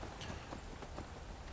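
Horse hooves clip-clopping at a riding pace in the video game Skyrim during mounted combat, faint and rhythmic under low background noise.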